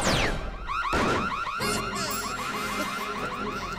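A loud cartoon alarm in The Powerpuff Girls blares with a rapid, repeating warble that runs continuously, after a brief crash and descending whoosh at the start.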